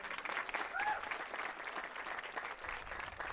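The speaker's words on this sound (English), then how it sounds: "Give them a clap for that for sure." At a high school graduation commencement, the crowd claps for the valedictorian and salutatorian, a full, steady wash of applause from many hands, with a faint cheer or whistle rising briefly above it.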